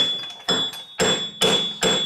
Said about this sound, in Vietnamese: bây giờ mình lấy búa mình vỗ ra vỗ vô cho nó cái